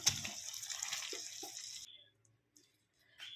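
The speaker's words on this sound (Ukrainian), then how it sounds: "пів стакана наляємо води." Water runs steadily from a tap into a frying pan of green beans and tomato paste for almost two seconds, then stops, leaving near silence with a few faint drips.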